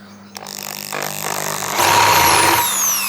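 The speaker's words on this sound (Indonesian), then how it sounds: "Pertama saya akan coba lanjutkan pengeboran yang 6 tadi ya." A Dongcheng DJZ10-10 electric drill runs steadily as it bores a hole, its motor whine rising in pitch and intensity partway through and staying loud and continuous to the end, with no talking.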